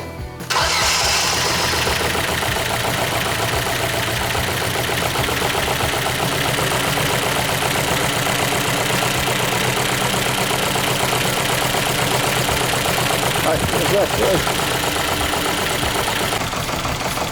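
A faulty Ford Fiesta engine cranks and fires, then settles into a loud, steady idle with a rough, knocking rhythm that runs throughout.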